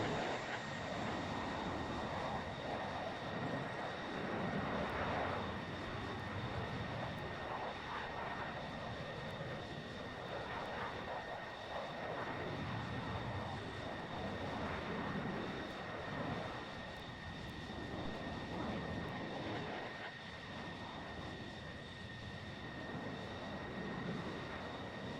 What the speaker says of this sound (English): Dutchman taxiing to runway 36.